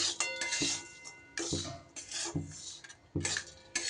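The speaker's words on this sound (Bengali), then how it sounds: "পাটালি গুড়, তার উপর নারকেলটা দিয়ে দিলাম, দিয়ে এবার সুন্দর করে নাড়িয়ে চাড়িয়ে পুরটাকে তৈরি করে নেব" A spoon scrapes and clinks against a pan as jaggery and grated coconut filling is stirred, with irregular scraping strokes and short pauses between them.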